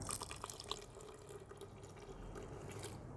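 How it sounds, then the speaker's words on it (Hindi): Water trickles and drips steadily as it is added a little at a time to a thickening homemade washing powder paste, a soft continuous pour lasting the whole stretch with no voices. "ये 1 लीटर पानी पूरा इसमें डालना है, पर थोड़ा थोड़ा करके"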